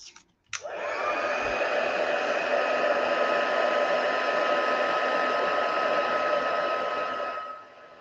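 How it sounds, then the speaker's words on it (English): A heat gun blowing steadily for card making, switching on with a click and holding a loud, constant whooshing hum with a faint whine for about seven seconds before cutting off, with no talking over it. "Grab my heat gun."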